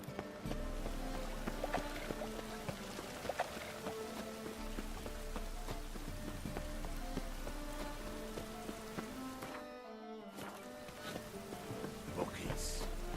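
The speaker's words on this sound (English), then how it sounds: "Rain again. Damn mages." Rain falls steadily in The Witcher 3, a soft continuous patter on surfaces with scattered drops, quiet beneath ambient game sound.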